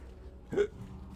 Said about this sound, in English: Oh, I got hiccups.